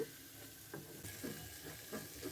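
Spice masala sautéed in a pan with a little spice-rinsing water: a faint, low sizzle with a few soft scraping stirs spread across it, quiet and close, with no talking.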